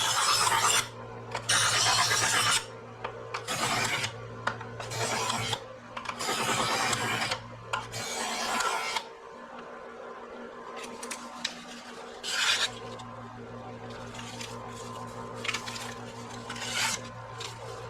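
A kitchen knife drawn repeatedly through a handheld knife sharpener, producing loud, close rasping strokes in bursts of several quick passes with short pauses between, the edge grinding against the abrasive.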